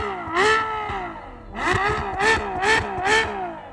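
A Ferrari F12berlinetta V12 engine with four exhaust tips revs repeatedly, sharp rising blips in quick succession after an opening roar, loud and close with no voices.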